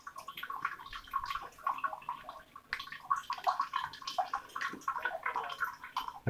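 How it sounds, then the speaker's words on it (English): Water runs out of a Sawyer mini water filter screwed onto a bottle, a close trickling, splashing flow with uneven gurgles and drips that continues throughout. "And that water is just coming out crystal clear."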